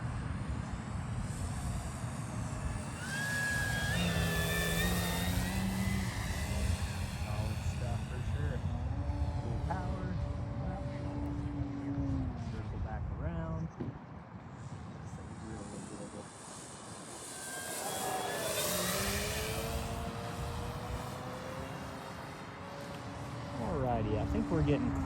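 A Hangar 9 J-3 Cub RC airplane with a 10cc engine flies slowly at just under half throttle, its buzzing drone rising and falling in pitch as it passes overhead, with someone talking through much of it.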